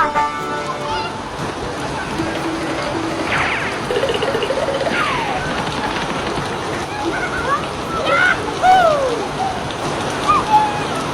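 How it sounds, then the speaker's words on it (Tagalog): Heavy rain pours down steadily, a dense, continuous hiss and patter that never lets up, with voices talking faintly beneath it. "Ang sarap naman ng ulan, Mateo."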